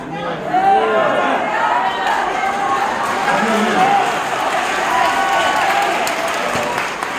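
A crowd at a press conference claps and calls out together, a steady, loud wash of applause mixed with raised voices and cheering that holds throughout.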